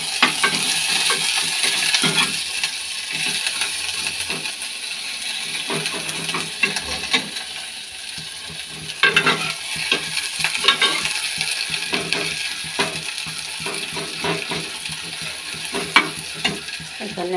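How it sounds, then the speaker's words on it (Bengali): Boiled lentils tipped into hot oil and stirred, a continuous loud hiss of frying with frequent scraping and clinking of a spoon against the pan, close up and unbroken by speech. "এখন ডালটাকে তেলে দেব"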